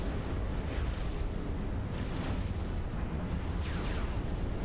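Torpedo explosions in the strategy game Supreme Commander make a dense, continuous rumble with several booming bursts rising out of it, loud and without speech.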